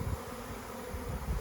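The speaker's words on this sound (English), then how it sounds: "I think the bees now are going to go ahead and come and get into the box." A honeybee swarm flies into a hive box in a backyard, making a low continuous buzzing hum with slight surges, moderately close and with no talk.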